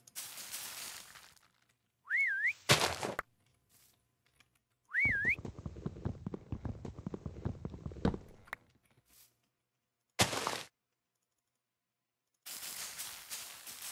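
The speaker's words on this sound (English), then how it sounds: "Need to change that whistle that calls the luggage mod over to you. That's what that whistling is." A rising-and-falling whistle calling the luggage mod in Minecraft FTB Skies sounds twice, short and clear, amid intermittent in-game footsteps and clatter, with silent gaps between bursts.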